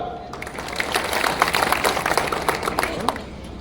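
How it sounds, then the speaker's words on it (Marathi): Village felicitation crowd applauding at a public event, a fairly faint, steady patter of many hands clapping at a distance, with a voice murmuring underneath. "त्यांच्यासाठी आपण सर्वांनी जोरदार टाळ्या वाजवायचे"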